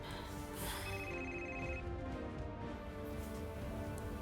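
A telephone rings indoors with a steady, electronic ringtone tone against a continuous background hiss, moderately quiet, with no one speaking.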